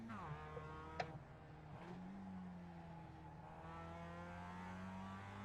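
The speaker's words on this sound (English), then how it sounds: "Don't worry about the car over revving" Mazda MX-5 Cup race car in iRacing at Okayama Short, its engine droning steadily at high revs with a brief sharp blip early on, heard alone without talk.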